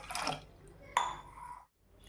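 Water pours into a pan for sugar syrup in a home kitchen, two short splashing bursts that trail off into a faint trickle before silence.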